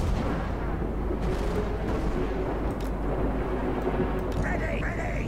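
Artillery fire booms at a hydra in Total War: Warhammer, dull repeated battlefield blasts and rumble under a speaking voice, with a brief higher whine near the end.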